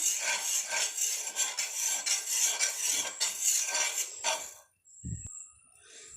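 Roti griddle being scrubbed and rinsed with clean water after a lemon rub, giving scraping and swishing clatter for several seconds, then a brief splash and quieter rinsing; no one speaks.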